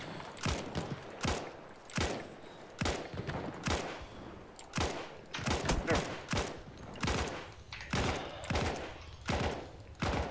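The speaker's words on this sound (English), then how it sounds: "Because I can see his head and I'm shooting at it, but I can't hit him" Gunfire in a video game, loud repeated shots in quick bursts and single cracks scattered across the whole stretch, with little pause between volleys.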